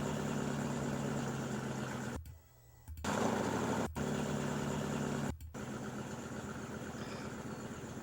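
A truck fitted with a Flowmaster cat-back exhaust idles with a steady, deep rumble, briefly cut by a few short dropouts.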